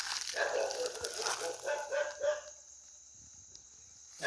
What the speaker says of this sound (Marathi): कुत्रे तिकडे भुंकत आहेत, त्याचा कुत्रा आहे तो भुंकतोय तिकडे